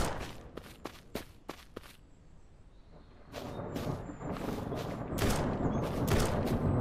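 Bursts of rapid gunfire in the SurrounDead zombie survival game near a bandit base, sharp shots in quick strings early on, then denser, louder crackling volleys over a steady background rumble.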